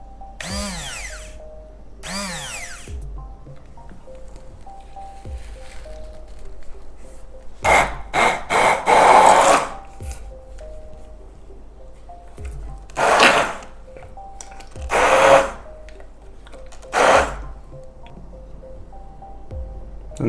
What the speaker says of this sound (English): And then you just have to use a blender.